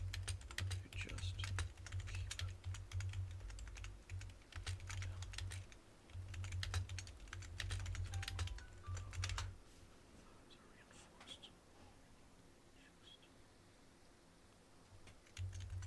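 Rapid clattering keystrokes on a computer keyboard during a CivMC Minecraft session, dense bursts of close typing that thin out to sparse taps near the end, with a low hum underneath.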